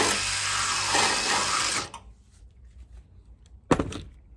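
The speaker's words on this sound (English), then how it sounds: "Now I'm gonna go grab my drill bit and drill and knock those holes out." A handheld power drill bores holes for mounting Smittybilt XRC fender liners, whining loudly for about two seconds before stopping, followed by quiet handling and a short sharp knock near the end.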